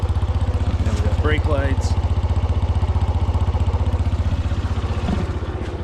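A 1986 Suzuki RB50 motorcycle idles steadily up close with an even, rapid putter, while someone speaks briefly over it.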